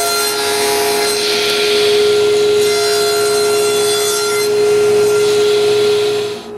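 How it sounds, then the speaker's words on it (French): A power saw cuts pieces of wood at 45 degrees for the base of a bedside table, a loud, steady whine with a sustained tone running for several seconds close by before winding down. "Je coupe les 2 coins du devant à 45 degrés."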